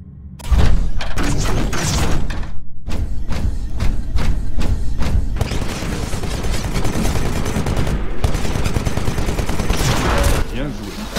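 Titan Vortex shield in the Titanfall video game catching incoming fire and flinging it back, heard as loud, dense bursts of gunfire and heavy thuds, with a voice speaking partway through.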